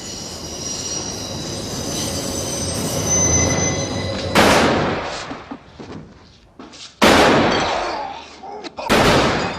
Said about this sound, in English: the train nearby is heard overhead